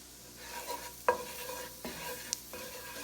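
Flour is stirred into melted butter in a pan. There is a soft, close sizzle with a few sharp scrapes and clicks of the spoon against the pan as the mixture is worked.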